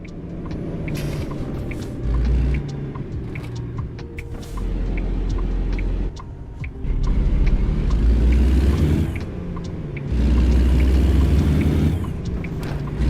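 A modern truck engine in a driving video game, its sound muffled by the SCR exhaust system. It gives a steady low rumble and drone that swells and settles in several stretches, with no one talking.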